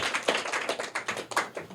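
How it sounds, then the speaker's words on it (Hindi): A small group claps for a prize-winning student at a private school event in Bihar, short uneven rounds of close hand claps over a couple of seconds. "जोरदार तालियां इनके लिए भी"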